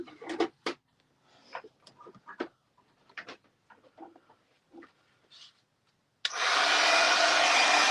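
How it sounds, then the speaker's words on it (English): A heat tool blowing hot air to melt embossing powder switches on abruptly near the end, a steady loud whoosh after several seconds of quiet handling sounds. "And I'm going to grab my heat tool."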